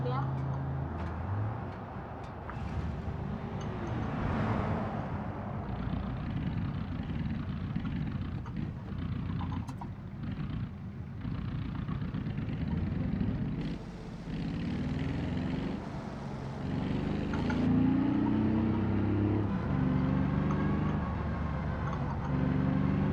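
Autobello Piccolino small car in a video game, its engine starting and then droning steadily as it drives, a continuous low hum with shifting pitch under ongoing talk.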